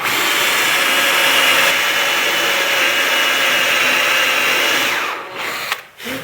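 A power drill bores steadily through wood with a loud, continuous grinding whir for several seconds, then eases off and sputters as the bit nears breaking through the other side.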